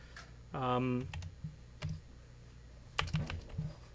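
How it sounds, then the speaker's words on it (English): Quick keystrokes on a computer keyboard enter a search in a product catalog, scattered clicks in two short clusters, with a brief voiced sound near the start. "let's type in TP dash if we're doing a search, a find function"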